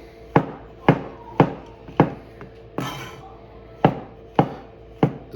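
A knife slices mushrooms on a cutting board for lasagna, about eight crisp, evenly spaced chops landing close and clear, with a short scraping pause in the middle.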